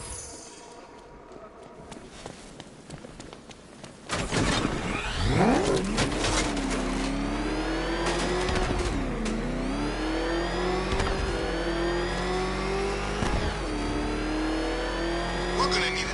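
A car engine in the video game Batman: Arkham Knight roars in after a quieter opening, revving loud and close with rising, wavering pitch as it keeps driving hard.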